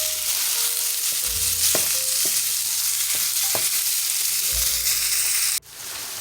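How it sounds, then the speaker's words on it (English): Ground beef sizzles loudly in a hot pan while a utensil breaks it up and stirs, giving steady frying hiss punctuated by repeated scraping knocks, ending with a sudden shift near the close. "What we're going to do is go and break it up and make sure everything is well combined."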